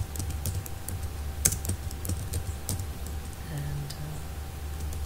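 Someone types quickly on a computer keyboard, with clustered clicking keystrokes close to the microphone over a low, steady background hum.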